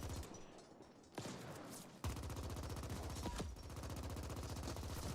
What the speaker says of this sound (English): I'm shooting right over this man